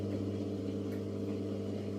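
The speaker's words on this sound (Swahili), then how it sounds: "Unasikia ina sound kama inatoa maji lakini hakuna maji inatoka." A washing machine runs its drain cycle with a fault that stops water flowing out, leaving only a steady, faint mechanical hum from the pump motor, unchanging and close.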